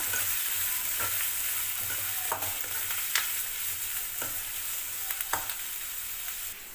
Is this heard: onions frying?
yes